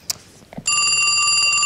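Telephone ringing, a loud continuous electronic trill that starts abruptly after a couple of brief knocks and keeps going without talk over it.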